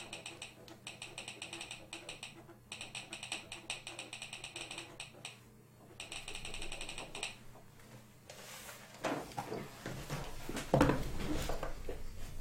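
Button presses on a virtual keyboard in an Unreal Engine 4 VR project, heard as quick runs of light, clicky taps in bursts with short pauses, fairly quiet and close, then a louder clattering stretch near the end.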